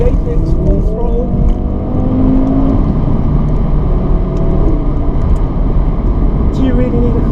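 Audi RS3 saloon pulling hard at full throttle on a tight road, a loud, continuous engine drone with a rising tone heard from inside the car.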